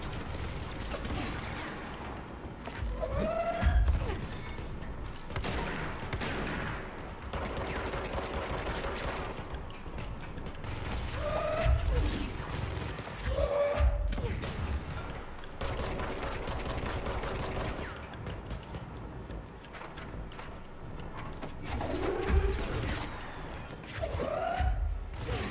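Gunfire in the video game Control Ultimate Edition crackles in repeated rapid bursts mixed with mechanical clatter and booming impacts, loud and close over roughly twenty-five seconds.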